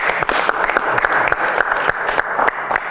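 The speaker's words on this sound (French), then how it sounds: "On l'applaudit encore une fois." Studio audience on a francophone television programme applauding a guest, a brisk burst of clapping with sharp individual claps standing out, loud and close.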